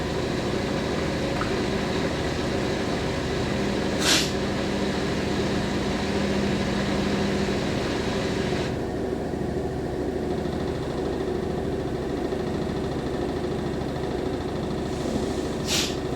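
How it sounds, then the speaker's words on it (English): A Fisher & Paykel WD8060P1 washer dryer runs a long final drying spin on a 90°C towels cycle with high-heat drying. It gives a steady, loud motor drone with a couple of brief clicks, and the hiss eases partway through. "We're probably going to do one of those really long final spins."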